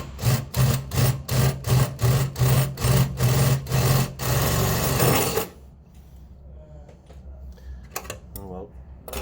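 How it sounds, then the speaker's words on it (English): A power drill bores upward from underneath at an angle in short repeated bursts, loud and rhythmic, then a longer run before stopping into quieter handling noises. "I'll try and drill at an angle back over."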